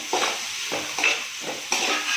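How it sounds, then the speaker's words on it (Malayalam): Green beans and small onions being stirred in a pan over high flame, with rhythmic scraping strokes and a soft sizzle repeating every half second or so, close and fairly quiet. "ഹൈ ഫ്ലെയിമിലിട്ടിട്ട് പച്ചക്കറികളൊക്കെ ഒന്ന് വഴറ്റിയെടുക്കാം."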